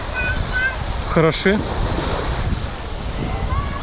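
Sea waves wash onto the beach at Sarısu in Antalya as a constant surf rush mixed with wind buffeting the microphone, while a voice speaks briefly near the start.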